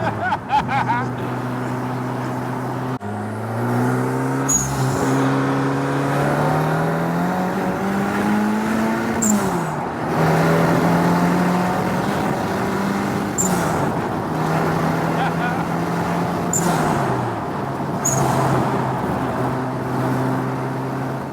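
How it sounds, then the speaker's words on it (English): A turbocharged Ford Mondeo Zetec engine in a home-built kit car drones and rises through gears while driving, its pitch climbing and dropping with each shift, loud and close from inside the car. "Not bad for a little Mondeo engine, is it?"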